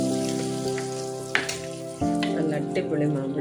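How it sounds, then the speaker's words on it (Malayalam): Curry leaves frying in hot oil as a tempering for mango pulissery, a crackling sizzle with a sharp burst partway through and a steady hum underneath, no speech. "കറിവേപ്പിലയൊക്കെ ആഡ് ചെയ്ത് നല്ലതുപോലെ മൂപ്പിച്ചെടുക്കുക"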